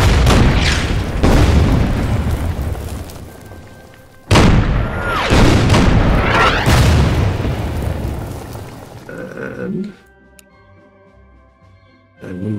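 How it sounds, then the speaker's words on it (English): Heavy artillery bombardment in the WW2 strategy game Order of Battle: deep, loud booming blasts rolling on for several seconds, a sharp new detonation about four seconds in, then rumbling that fades to quiet with small clicks before another thud at the end. "let's bombard the heavy artillery."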